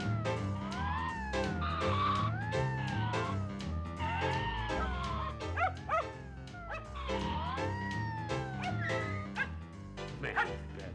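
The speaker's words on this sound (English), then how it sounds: "You're supposed to sleep at night and bark during the day." A dog barks and yips over and over against a busy musical backdrop, the sharp calls recurring throughout at steady loudness.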